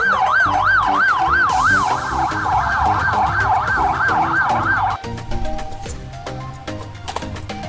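A toy police car's loud wailing siren cycles rapidly up and down for about five seconds, then cuts to a jumble of electronic beeps and tones.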